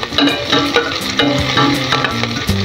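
Garlic sautéing in a pan for a Filipino fish cocido, a steady loud sizzle with repeated scraping stirs of a utensil against the pan.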